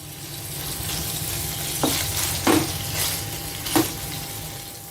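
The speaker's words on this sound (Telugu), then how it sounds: "మీడియం ఫ్లేమ్లో ఈ పన్నీర్ ముక్కల్ని ఇలా ఒక సైడ్కి తిప్పుకుంటూ కొంచెం కలర్ మారే వరకు ఫ్రై చేసుకోవాలి" Paneer pieces fry in a pan over a medium flame with a steady, close sizzle, while three sharp clinks of a utensil against the pan break through as the pieces are turned.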